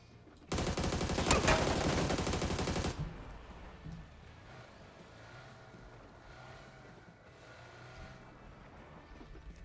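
A loud, rapid burst of automatic gunfire lasts about two seconds during a drive-by from a vehicle in PUBG, then gives way to a steady engine rumble.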